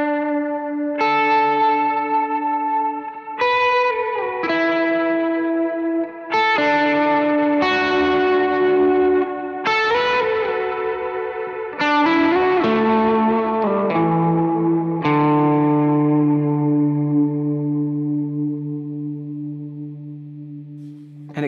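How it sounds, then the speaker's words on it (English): Electric guitar plays a series of clean, sustained chords through a Vortex resonator reverb pedal on a worship pedalboard. The wash of resonance sweeps up and down, and the final chord rings out long and shimmering, loud, with no other sound. "this reverb, it's called Vortex. It's like a resonator. And the resonance kind of goes up and down."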